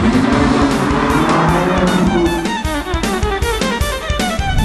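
A Ferrari 458 engine revs hard through its exhaust, a loud, close, rising wail that breaks into sharp rhythmic pulses and shifting tones as the revs change.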